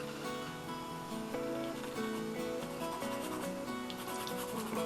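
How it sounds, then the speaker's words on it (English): A black pencil crayon rubs over pencil lines on paper in soft, continuous scratchy strokes with no speech, set against quiet tonal background music. "I'm just going to start to go over my pencil lines."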